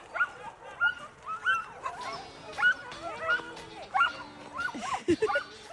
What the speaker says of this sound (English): This is Katie being attacked by dogs.